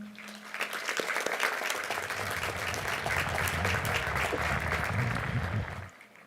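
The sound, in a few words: applause at high school graduation ceremony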